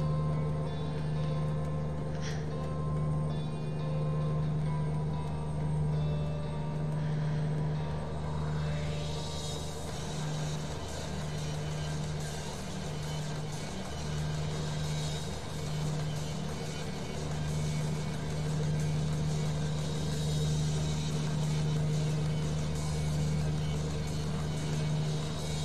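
Heavy truck cruising on an American highway in American Truck Simulator, a steady low engine drone and road rumble running unbroken throughout with no talk.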